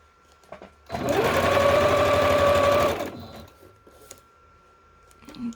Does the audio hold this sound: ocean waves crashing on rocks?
no